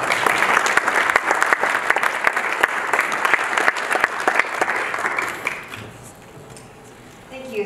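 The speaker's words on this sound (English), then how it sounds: "Can you please give another round of applause?" A conference audience applauds a speaker at a panel on digital citizenship, dense continuous clapping from a crowd for about five seconds before it fades out, and then a faint voice briefly speaks.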